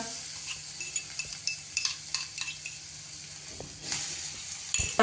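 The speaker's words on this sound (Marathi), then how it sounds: "आता त्यामध्ये आपण हा जो ठेचा केलाय तो घालून थोडासा परतूया" Crushed chili-garlic thecha with turmeric sautéing in a pan, with close sizzling and repeated scraping stirs from a spoon. A louder burst of frying comes in near the end.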